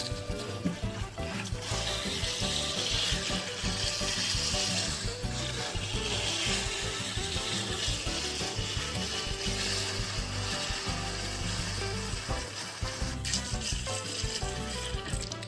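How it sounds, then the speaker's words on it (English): Tap water runs steadily into a container being filled to wash oysters in a kitchen, a continuous rushing splash of noise lasting throughout without speech. "So I am just filling this up with water."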